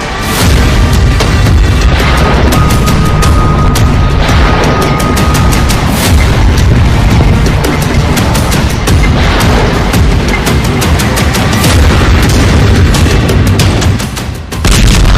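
Hezbollah bombs strike an army base in Haifa, a loud, continuous barrage of booming explosions and sharp cracking blasts in rapid succession for the whole stretch, with no voices.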